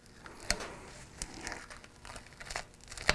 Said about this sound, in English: So let's go ahead and take our old duct tape off.